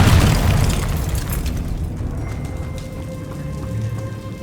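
Confringo explosion spell blasting in Hogwarts Legacy: a loud, deep boom right at the start, fading into a crackling, rain-like rumble and lingering tonal ringing, with no talk.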